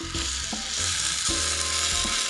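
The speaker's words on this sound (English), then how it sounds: "mix well now keep on the pan in low flame" Chicken kalmi kebab pieces fry on a pan over a low flame, giving a steady, close sizzle with faint scraping and clinking throughout.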